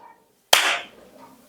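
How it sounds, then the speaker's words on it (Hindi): A single sharp hand clap cracks out once in a quiet room at the end of a hypnosis session, with a brief echo that fades afterward. "जैसे ही मैं ताली बजाऊंगा, आप नींद से बाहर आ जाएंगे।"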